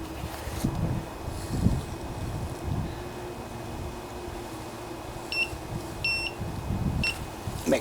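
A cheap handheld metal detector, sweeping for a lost pressure washer hinge pin, gives several short, thin electronic beeps near the end over outdoor wind rumble and faint handling noise.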